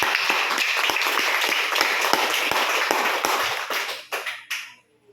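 Congregation at a Spanish-language church service applauding in praise of Jesus, a dense, steady wash of many hands clapping with a few sharper claps standing out, then tapering into scattered final claps near the end.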